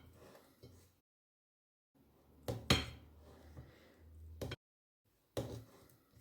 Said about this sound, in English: I just cut it up into the bowl.